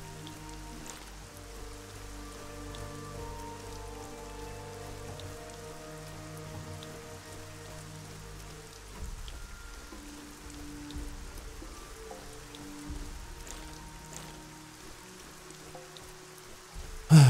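Steady rain falls in the game Gothic 4: ArcaniA, a continuous hiss of drops on surfaces that holds at an even level throughout with no voices, under faint background game ambience.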